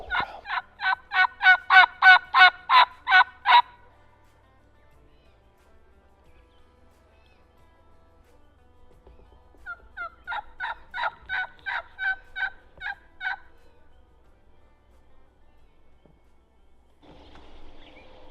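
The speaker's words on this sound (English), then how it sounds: "We got turkey to gobble over here." Wild turkeys gobble in two rapid, rattling bursts some distance away on public land in Indiana, separated by quiet stretches of open air.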